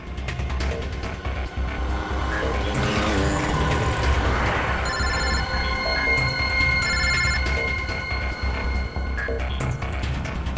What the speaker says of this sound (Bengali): ফোন কর, তাড়াতাড়ি ফোন কর ওকে।